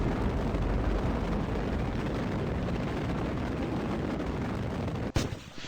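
Solid rocket boosters fire after stage separation in the RP-0 spaceflight game, a loud continuous roaring rumble that holds steady, then a sharp crack near the end with a brief dip.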